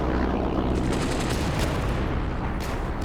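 Infantry gunfire in the tank game Steel Fury during an assault on Chernogostie: dense, overlapping rifle and machine-gun bursts crackling without pause, loud and close, with heavier booms mixed in.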